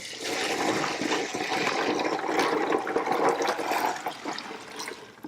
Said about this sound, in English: and we'll pour this right over the top.